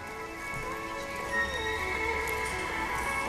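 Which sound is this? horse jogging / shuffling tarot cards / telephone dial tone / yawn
horse jogging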